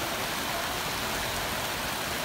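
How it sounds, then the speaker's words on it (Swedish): Steady rain falls at a temple in Myanmar, a dense, even hiss of drops with no breaks, close and moderately loud, with no voices. "Och så var det dags för lite regn igen."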